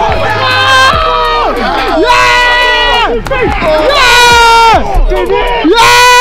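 A video game football crowd cheers a goal, a loud, continuous roar with rising and falling pitch, swelling in waves across the whole stretch and running alongside excited voices.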